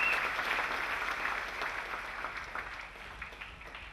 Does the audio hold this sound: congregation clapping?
yes